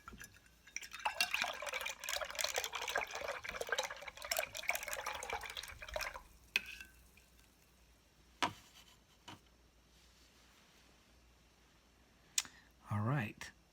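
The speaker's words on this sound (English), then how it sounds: "if you're going to be painting for a while, get those brushes in water" Paintbrushes swished and rinsed in a container of water, close splashing and sloshing for several seconds, then quiet with a few isolated clicks and taps.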